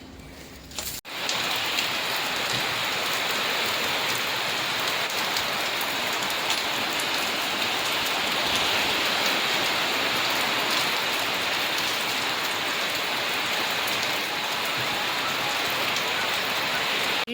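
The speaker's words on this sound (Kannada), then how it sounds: "ಗೈಸ್, ಇನ್ನು ಈಗ ಮಳೆ ಸ್ಟಾರ್ಟ್ ಆಗಿದೆ" Rain begins abruptly after about a second of quiet, then pours in a dense, steady hiss of drops on surfaces that stays loud and even throughout, with no talking.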